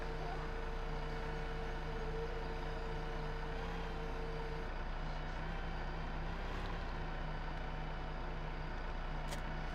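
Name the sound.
truck in video game Farming Simulator 15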